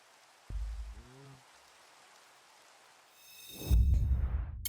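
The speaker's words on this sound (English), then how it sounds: "Seeing as it's raining in game and being dumb" Rain falls in the Minecraft video game as a steady soft hiss, with a brief low thump early on and a louder rushing swell near the end.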